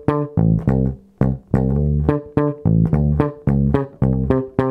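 A disco bass line on bass guitar jumps between octaves in a steady, syncopated groove of plucked notes, loud and close, played solo without any voices.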